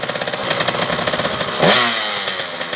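A KTM 85 SX motocross bike with an 85cc two-stroke liquid-cooled engine runs close by with a rapid, buzzy pulsing beat, surging briefly in a sharp rev before settling back.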